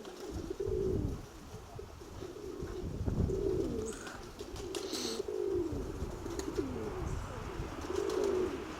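Domestic pigeons cooing repeatedly in soft, rolling phrases, several calls spaced a second or two apart against a quiet background with faint chirps.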